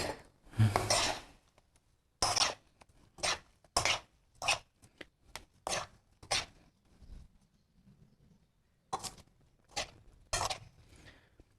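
Amla gooseberry pickle, its pits removed, gets mixed in a pot with a series of distinct, close scraping and clattering strokes. The strokes come in an irregular rhythm, with short pauses between them.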